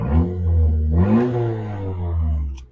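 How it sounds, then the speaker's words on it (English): A Honda Civic engine revs up and drops back with its exhaust cutout open, a deep rumbling exhaust note swelling and fading, loud and close. "but if I give it a rev"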